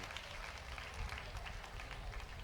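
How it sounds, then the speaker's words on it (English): An audience applauds drummers at the opening ceremony of the 30th anniversary of the UN Convention on the Rights of the Child, a steady wash of many hands clapping at a distance, dense and continuous throughout. "Another round of applause for the drummers"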